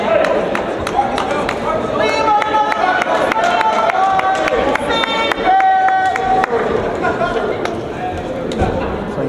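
A crowd at a high school basketball game between St. Frances Academy and McDonogh School stirs and murmurs loudly and steadily, with sneaker squeaks and short cheers, while a commentator keeps talking over it.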